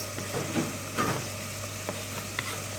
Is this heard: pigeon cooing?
no